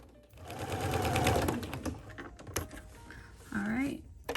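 A sewing machine runs in short bursts while top stitching a fabric bucket hat, its mechanical whirr close and fairly loud, with a brief pause and some handling noise between runs.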